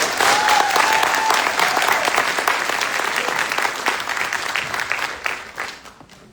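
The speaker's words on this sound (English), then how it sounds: "Please join me in a round of applause for the awardees." Audience applause for awardees at a military graduation ceremony, a steady wash of clapping that holds strong, then thins and fades out near the end.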